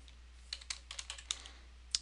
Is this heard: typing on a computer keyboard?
yes